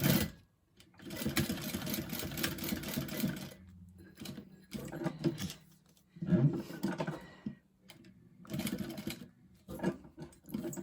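A sewing machine stitches a Swoosh Bag with metal hardware, sounding close in several uneven runs of whirring needle action broken by pauses and fabric handling.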